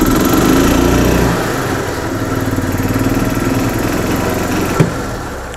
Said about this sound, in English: You can hear by the way the engine revved up and then revved down.